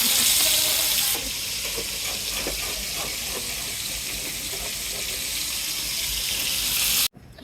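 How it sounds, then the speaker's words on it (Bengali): Potatoes frying in a pan until reddish-brown, making a loud, dense sizzle that eases slightly after the first second, then holds steady before stopping suddenly near the end. "আলুগুলো আমি মাংসের মতো লাল লাল করে বাইজা নিই"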